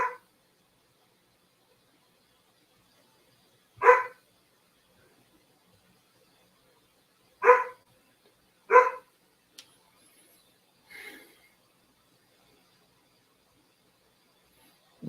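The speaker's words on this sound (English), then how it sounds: "She's a sweet dog, but she talks a lot." A pet dog gives four or five short, sharp barks spaced several seconds apart, loud and close in an otherwise quiet room.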